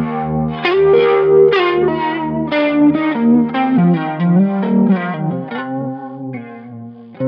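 Distorted electric guitar lead played high on the neck through a Line 6 Helix, with sustained bending notes and chorus-like shimmer ringing out loud and alone for several seconds.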